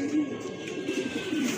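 Domestic pigeons, including Danish breed birds, cooing in low soft repeated rolling calls, close by and steady throughout with no talk over them.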